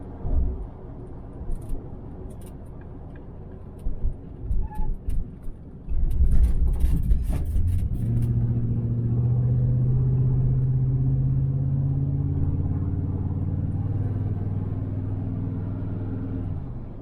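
A 1968 Chevrolet Chevelle Nomad, back on the road after 32 years, drives along with a low rumbling engine that swells and then holds a steady drone as it shifts quickly up through second and third gear.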